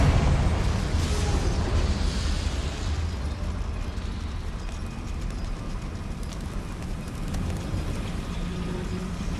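A blasting spell explodes in a Harry Potter video game, a loud low rumbling burst that lingers as a dense, sustained roar with scattered crackles, no voices.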